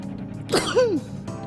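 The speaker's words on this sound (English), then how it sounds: "Achoo? What is that smell? Is that pepper?" A single sharp sneeze from a character in the convenience-store game inKONBINI, set off by pepper: a quick breathy burst followed by a rising vocal 'choo', close and clear over a quiet background.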